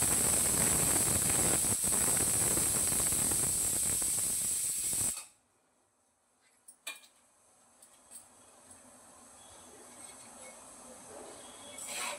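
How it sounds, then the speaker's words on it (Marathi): Water hisses loudly on a hot tawa as bhakri flatbread cooks, a steady bright steam roar lasting about five seconds, then cutting off abruptly to quiet room tone with a few faint clinks. "मेन म्हणजे भाकर तव्यावर घातली की लगेच पाणी लावायचं."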